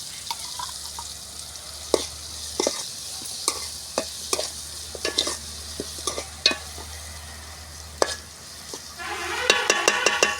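Ginger paste stirred and frying in a pan for dried fish curry, a soft constant sizzle broken by repeated sharp spoon clinks and scrapes, busier clattering near the end, no speech.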